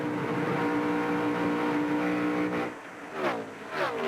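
NASCAR Winston Cup stock cars race at Kansas Speedway in the 2002 Protection One 400, their engines a steady droning whine. Near the end the pitch drops sharply as cars sweep past and fade, heard at moderate distance.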